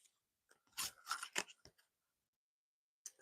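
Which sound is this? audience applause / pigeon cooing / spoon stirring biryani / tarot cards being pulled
tarot cards being pulled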